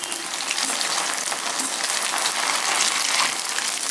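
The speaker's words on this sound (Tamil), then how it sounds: "இப்போ சிக்கன் நல்லா ஃப்ரை ஆயிடுச்சு" Chicken pieces frying in a pan of oil over a medium flame, a steady, dense sizzle that holds at an even level throughout with no talking.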